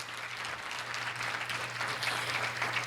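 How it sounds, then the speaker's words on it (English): An audience at a chamber legislative breakfast applauds its panelists with steady, even clapping that carries through the whole moment at moderate distance, with no talking over it. "A big hand of applause,"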